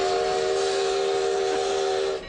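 Steam whistle of a tourist train with an open observation car, blowing one loud, sustained chord-like blast close by that holds steady with a hiss of steam, then cuts off near the end.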